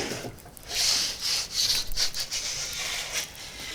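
Ciabatta dough slides into a Gozney oven with a rough, scraping rub of peel and floor, several hissing strokes close and fairly loud, with no talking.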